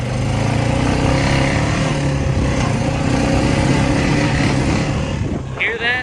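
A Honda motorcycle engine with noisy valves runs steadily up close, a loud continuous idle with a low rumbling drone and a brief higher chirp near the end.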